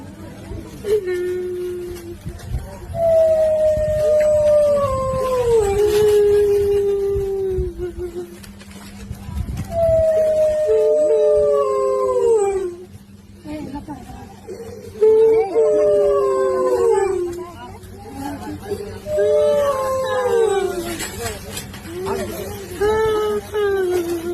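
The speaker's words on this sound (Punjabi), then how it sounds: "ਕੁੱਤਾ ਵੀ ਭੁੱਬਾ ਮਾਰ-ਮਾਰ ਰੋਂਦਾ ਪਿਆ ਏ" A dog howls and cries at a wedding as the bride departs, giving long, wavering, falling wails in repeated bouts with brief gaps between them, loud and close, while human voices sound in the background.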